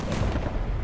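A tank gun shot in War Thunder, a short heavy boom with a rumbling low-end tail filling less than a second.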